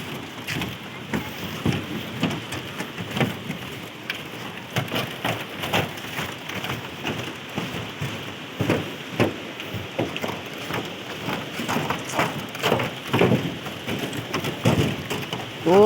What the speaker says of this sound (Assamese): এতিয়া এয়া বৰষুণ দি আছে।